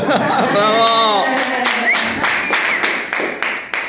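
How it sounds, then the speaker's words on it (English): A raised voice calls out, then a handful of people clap in scattered, uneven bursts that fade toward the end. "Give her a round of applause."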